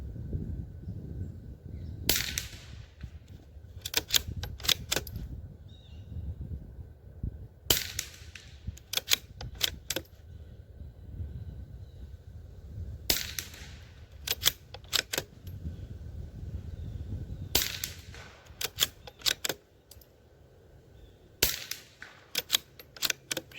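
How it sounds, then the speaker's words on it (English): Savage B22 .22 rimfire rifle fired quickly in clustered bursts of sharp, crisp cracks, several shots per string with short pauses between, close and loud over a quiet outdoor background. "I'm just going to run through about 30 rounds and let you guys kind of see the extraction in action"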